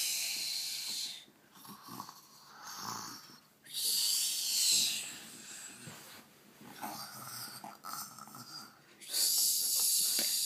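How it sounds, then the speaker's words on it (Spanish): A baby snores in repeated breathy, wheezy rasping breaths with a snorting edge, each swelling and fading in a slow uneven rhythm, close and fairly quiet. "¿Por qué roncas?"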